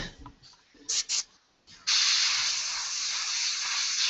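An airbrush sprays paint onto a skull from a few centimetres away, first with a few short hissing bursts, then a steady, close, continuous hiss.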